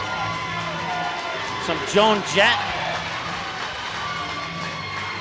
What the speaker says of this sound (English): And the crowd is in this. The Barnesville fans are on their feet.